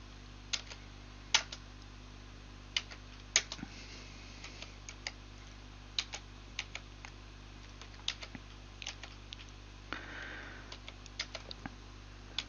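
Sparse keystrokes tapped on a computer keyboard, irregular clicks with short gaps, fairly quiet and close, against a faint steady hum.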